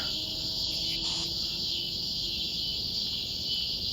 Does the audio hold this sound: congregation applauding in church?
no